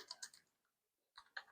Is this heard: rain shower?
no